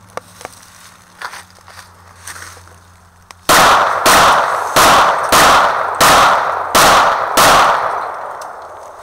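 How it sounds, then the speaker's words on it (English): A firearm fires seven loud, evenly spaced shots close by, following a few seconds of quiet handling clicks. "Shooting by yourself?"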